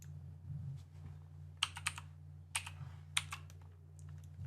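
Quick clusters of crisp keystrokes on a computer keyboard, a few short bursts of typing close up over a low steady hum, with no talking.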